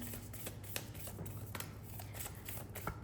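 A tarot card deck shuffled by hand, a quick run of crisp riffling and soft slapping card sounds, close and steady, with no talking.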